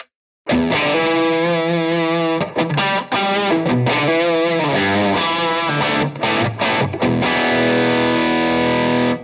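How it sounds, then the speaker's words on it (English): An electric guitar plays through a mini amp with the overdrive pushed up, giving loud, gritty distorted chords and sustained notes with brief pauses between phrases. "Let's start pushing up the overdrive."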